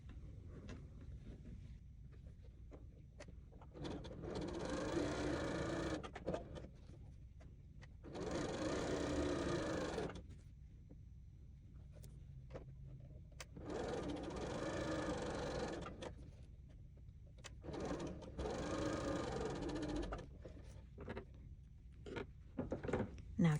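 A sewing machine stitches quilt fabric pieces for half-square triangles in four separate runs of steady, fast mechanical whirring, with quieter pauses between them and soft handling noises.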